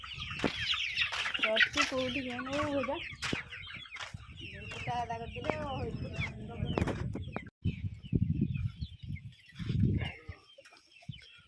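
Poultry on a farm in Odisha call close by with repeated gobbling, clucking bursts and wavering cries, mixed with scattered thumps and rustling, while people talk in the background.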